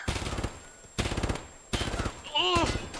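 A big gun fires in Escape from Tarkov, with loud automatic bursts repeating about every second, and a voice cries out over the last burst.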